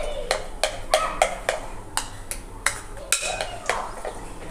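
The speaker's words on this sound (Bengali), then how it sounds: "চামচের সাহায্যে আমি এভাবে ভালো করে গোলাটা গুলে নিচ্ছি।" A spoon beats gram flour batter in a bowl, sharp repeated clinks and taps against the bowl in an uneven rhythm, close and fairly loud.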